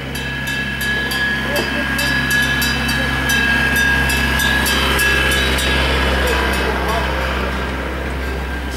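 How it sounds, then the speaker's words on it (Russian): A small tourist tram train rolls along the seaside promenade at Puerto Colón in Las Américas, Tenerife, with a steady droning rumble and faint rhythmic clicks, while people talk nearby. "О, трамвайчик идет."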